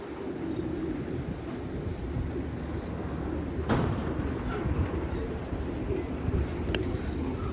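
Domestic pigeons coo softly in a low, continuous murmur from a loft in hot morning weather, with a steady background hum and a few faint knocks.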